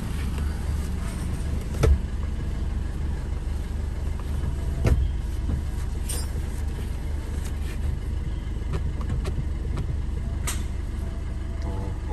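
A car runs steadily after a power steering repair, a continuous engine drone with a couple of faint clicks, heard up close with no other sounds.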